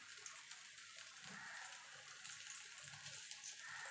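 Water running steadily from a tap while a mixer jar is rinsed in a kitchen, a faint even hiss throughout with a few soft splashes and low knocks from the jar.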